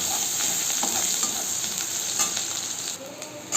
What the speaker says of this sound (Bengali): আমি পেঁয়াজটাকে একটু লাল লাল করে ভেজে নেব।